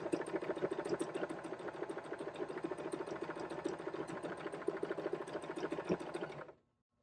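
A JOANN beginner sewing machine running a decorative stitch, a rapid, even mechanical patter of the needle that runs steadily for about six seconds, close and moderately quiet, then stops abruptly into silence.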